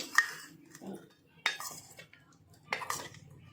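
Khichiya bites being mixed by hand in peanut oil, with three distinct clattering bursts of utensil against dish, spaced about 1.4 seconds apart, close and clear with quiet gaps between.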